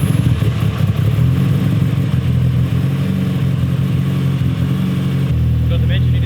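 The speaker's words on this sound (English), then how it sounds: "We'll start it up for you and let you listen to that SR20." A Mitsubishi EVO 7 with a forged 4G63 engine and full titanium exhaust runs loud and close with a raspy, steady drone and a slight shift in tone near the end, with faint voices nearby.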